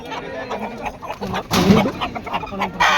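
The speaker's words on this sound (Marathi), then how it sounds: "आणि या ठिकाणी आणलेली आहे कोंबडी" A large Kaveri-breed hen clucks in short, irregular bursts, fairly close, at a livestock and poultry exhibition, with a louder squawk midway and faint voices and farmyard noise in the background.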